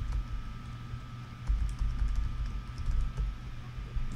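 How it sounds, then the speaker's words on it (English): Steady, close clicking of computer keyboard keys as a web address is typed, with a faint electrical hum underneath. "Type in the URL."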